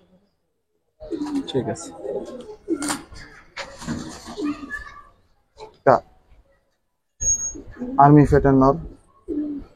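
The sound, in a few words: pigeons cooing in a loft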